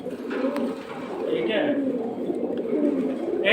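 Domestic pigeons coo in low, soft, repeated throbbing calls close by at a pigeon sale, under someone talking.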